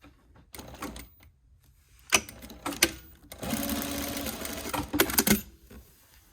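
Sewing machine stitching along the edge of a continuous lap on a garment, with short bursts of rapid needle chatter and a longer steady run, broken by clicks and pauses, heard up close.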